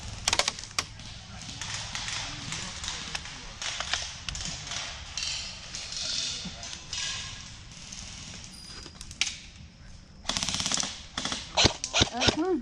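Airsoft guns fire at night through a long stretch of rapid, dense bursts and scattered single shots, loud and close at times, while people shout and talk over the gunfire.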